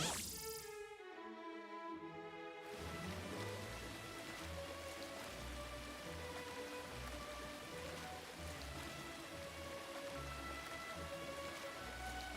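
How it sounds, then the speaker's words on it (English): Hail falling outdoors, a dense steady patter of hard pellets striking surfaces, continuous and fairly close throughout after a brief tonal sound at the start. "Oh my god, it's hailing!"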